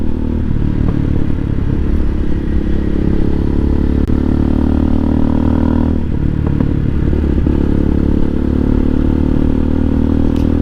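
A 2020 CSC TT250 single-cylinder motorcycle drones steadily at speed on a ride up Bull Creek in Northern California, a loud, unbroken engine roar with rattling and wind buffeting throughout.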